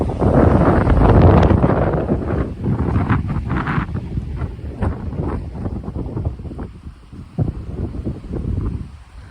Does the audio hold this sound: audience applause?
no